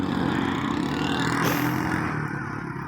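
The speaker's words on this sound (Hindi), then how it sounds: "बाइक गुजरती है साथ ही शोर आ जाता है" A motorbike passes through a village, its engine droning loudly and close at first, then easing off slightly toward the end.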